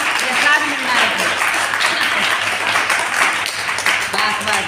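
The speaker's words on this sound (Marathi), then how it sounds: "सगळ्यांनी टाळ्या वाजवूया" Children and adults clap together during a Hanuman birth-story kirtan at a Ganesh temple. The clapping is steady and continuous, with voices mixed in throughout.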